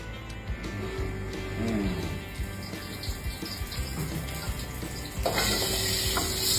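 Hot cooking oil crackles in a wok for a Thai khao tom kui stir-fry, giving a steady low sizzle with a faucet-like wash of noise that swells near the end.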